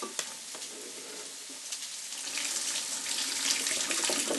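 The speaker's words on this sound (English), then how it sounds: "It has holes, so you can actually strain your pasta through the holes." Pasta water pouring through the holes of a clip-on pan lid into a sink, a steady rushing splash that grows louder and fuller toward the end, with no talking.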